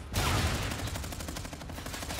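Rapid automatic gunfire in an online shooter match, fired as a steady, fast stream of shots that starts abruptly and carries on without a break, fairly loud and close.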